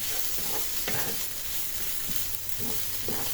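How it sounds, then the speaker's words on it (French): About 300 g of onions browning in a frying pan give off a dense, steady sizzling hiss with soft stirring thumps, close and continuous, with no talking. "je fais bien revenir mes oignons"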